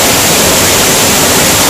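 Waterfall on a hiking trail, reaching a second falls, pours as a loud, steady broadband roar that fills the whole stretch without a break, close by and with no voices over it.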